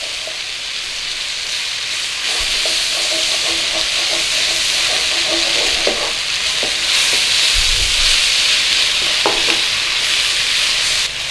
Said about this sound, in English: We want to go in with a good couple of tablespoons of flour. Get that in there, start to cook it in.